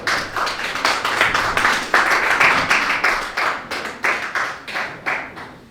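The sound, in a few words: congregation applauding in church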